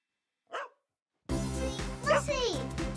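A small dog gives a single short bark, quickly followed by cheerful music from a children's cartoon with a voice over it.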